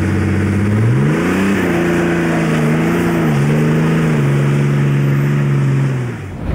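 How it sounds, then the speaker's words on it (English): Dodge Ram Cummins diesel truck doing a boosted launch: a loud, close engine roar climbing steeply in pitch, holding a strained high drone with slight wavers and shifts, then easing off at the end, with no talking. "That was my first ever boosted launch."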